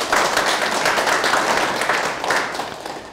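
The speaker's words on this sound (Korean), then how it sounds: "큰 박수 부탁드립니다." Audience applause at a company lecture held at a factory, a steady burst of many hands clapping that fills the room and fades slightly toward the end.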